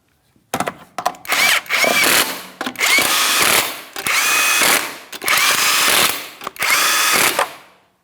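A power tool runs down the lug nuts on a Ford Edge front wheel in four loud, close bursts of whirring and rattling, each about a second long with brief pauses between, no voices.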